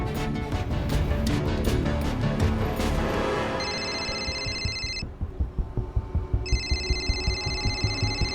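A mobile phone rings in a crime drama scene, its steady electronic ringtone pulsing in repeated bursts after a dense stretch of background music and noise, clear and fairly close.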